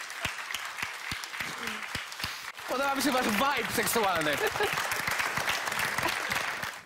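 An audience applauds and cheers for a band, scattered claps building into a dense, loud ovation with whoops, while someone speaks over the start.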